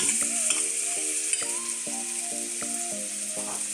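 Cold rice mixed with egg yolk stir-fried in a pan, with a soft steady sizzle under repeated spatula scrapes and clinks against the pan at a fairly even rhythm, close by and with no speech.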